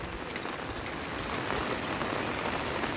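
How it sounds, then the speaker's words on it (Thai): A continuous wash of heavy rainfall, moderately quiet and unbroken, with a dense hiss of drops on surfaces and no voices. "โอ้ยฝนตกพี่น้องเลย"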